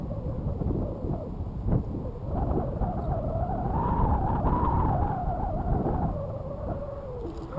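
Motor of a Sky Surfer RC plane at about 25% throttle, a steady mid-pitched buzz whose pitch wavers gently as the plane flies past at a moderate distance. Wind rumble runs underneath, and no voices are heard.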